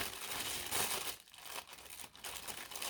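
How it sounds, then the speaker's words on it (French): A plastic bag crinkles and rustles loudly up close as it is handled and pulled open, with brief pauses between bursts. "je suis désolée pour le bruit du sac, hein, mais on n'a pas le choix"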